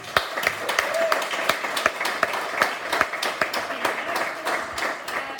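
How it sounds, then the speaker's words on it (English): Audience at a wellness panel event applauding, with sharp individual claps over a steady patter of clapping that carries on throughout, while a voice speaks underneath. "let's give them all a big round of applause."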